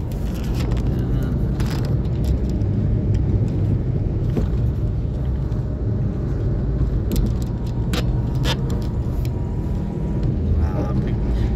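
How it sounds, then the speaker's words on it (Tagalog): Steady road traffic in Manila, a dense continuous rumble of car engines and passing vehicles close by, with voices talking over it throughout. "Traffic."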